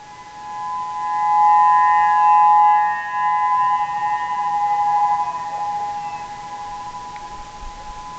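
Tsunami civil defense siren in Oceanview, Hawaii, a distant wailing tone about 15 miles away that rises and falls slowly in pitch and swells in volume, sounding steady and far off.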